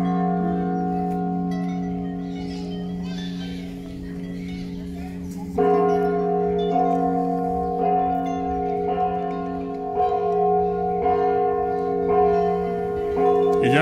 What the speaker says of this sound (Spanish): Y ya se escuchan las campanadas.